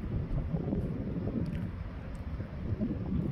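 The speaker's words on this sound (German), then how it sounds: "Denn der Wind ist schon heftig." Strong wind buffets the microphone at a beach resort in Marsa Alam, a steady loud rumbling roar with gusty swells throughout and no voices.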